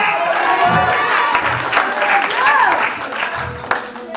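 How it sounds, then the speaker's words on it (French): A congregation at a church revival service claps together while voices call out and sing over the clapping. The applause is loud and close, then eases slightly toward the end. "Applaudis l'éternel là"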